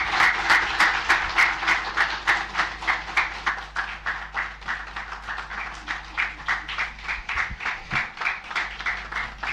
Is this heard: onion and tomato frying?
no